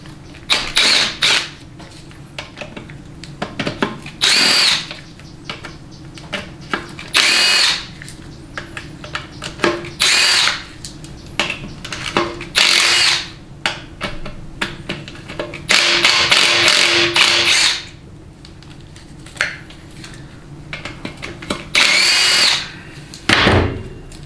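Power tool in repeated short bursts, loosening the 5/16 Allen head studs on a Ford 6R140 transmission housing during a teardown, with clicks and handling noises between runs and no talking.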